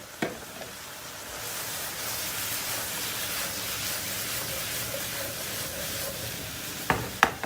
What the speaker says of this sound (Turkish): Önce yüksek ateşte biraz kavuracağım. Ondan sonra soğanı kısık ateşe alacağım.